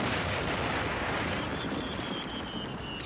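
Dense, continuous crackling firework booms roll together like a barrage of distant explosions near a beach, with a faint rising whistle near the end.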